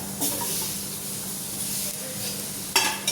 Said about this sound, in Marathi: परत कांदा आणि टमाटो 5 मिनिटं भाजायचं।